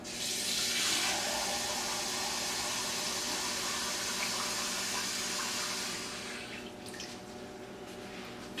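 Kitchen tap water runs steadily into a measuring cup for two cups, a loud, even gush that stops after about six seconds and leaves a few drips.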